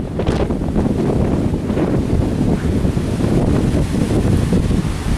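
Strong storm gusts under a shelf cloud gust front, roaring continuously and buffeting the microphone close up, with a dense low rumble throughout and no voices.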